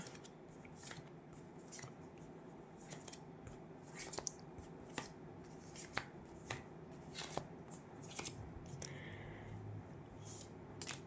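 Tarot cards shuffled for a reading, a steady riffling rustle with sharp snapping flicks at irregular intervals, close and fairly quiet against a soft background hum.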